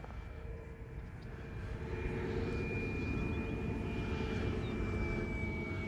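A Tower Hobbies Sbach RC plane's engine buzzes steadily at about half throttle, a constant distant drone that swells slightly as the aircraft passes.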